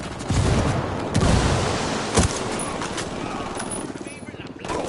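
Rapid bursts of gunfire in the video game Ghost Recon Wildlands, several sharp shots and short volleys over a few seconds, mixed with game combat noise and voices talking.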